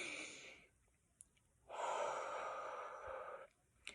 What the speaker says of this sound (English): I'm taking a really good deep breath